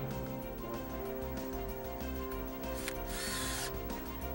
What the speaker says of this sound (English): secure the track with a screw